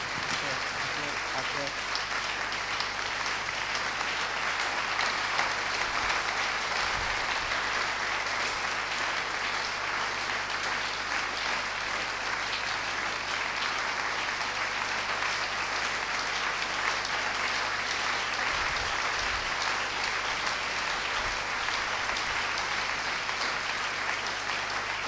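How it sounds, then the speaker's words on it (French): A church congregation in Togo applauds steadily to welcome a visiting pastor, a dense, sustained wash of clapping from many hands filling the whole stretch at an even level, with no talk over it. "Dans les acclamations, nous allons l'accueillir."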